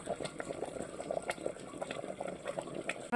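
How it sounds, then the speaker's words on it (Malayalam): Sambar with jaggery added coming to a boil in a pot, soft irregular bubbling and popping at low level, quiet and steady with no talk. "അതൊന്ന് തിളച്ച് വരട്ടെ."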